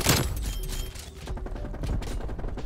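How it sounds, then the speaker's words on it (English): Gunfire from the multiplayer shooter Call of Duty Cold War crackles in quick bursts and rattling volleys, mixed with clanking game effects, close and busy throughout the short stretch. "I'm getting shot from literally every angle."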